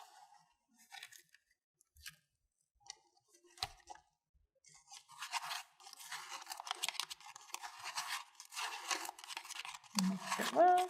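Grape Jell-O mixture being stirred in a bowl, with scraping and clicking strokes that start sparse and quiet, then turn into a steady, busier churning, close by.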